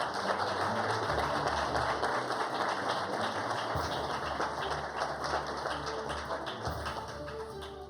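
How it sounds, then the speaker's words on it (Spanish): Audience at a ministerial swearing-in ceremony with the President of Colombia gives a sustained round of applause, moderately distant and steady, tapering off slightly at the end. "Un fuerte aplauso para ella."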